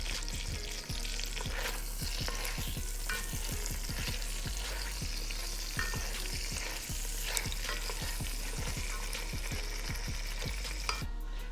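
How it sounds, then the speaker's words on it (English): Chipotle peppers and adobo sauce frying in a pan for chicken mole, a close, continuous sizzle broken by frequent scraping stirs, with no voices. "I just want to let this fry for a little bit"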